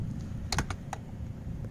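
A plastic triangle trim piece is popped into a Fiat 500 side mirror housing, giving a few sharp, quiet plastic clicks close up in a cluster, then near silence.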